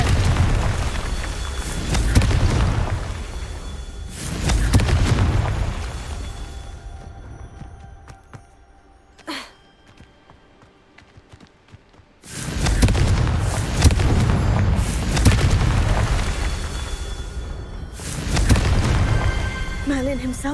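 Confringo fire spell from Hogwarts Legacy, cast in the game: loud booming fire blasts with rumbling tails come in bursts, then drop to near silence with one sharp crack, and heavy blasts return and keep going to the end.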